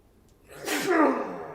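A single sharp human sneeze with a quick intake of breath before the burst, close and fairly loud.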